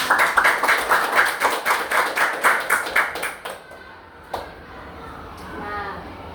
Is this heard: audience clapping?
yes